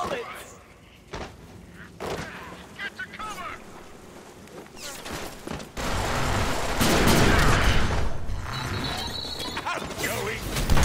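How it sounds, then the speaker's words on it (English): Gunfire in the Deadpool video game: scattered sharp shots and bursts that swell into a heavy, sustained volley with clattering impacts, mixed with voices and in-game speech. "Bullets! Get to cover!"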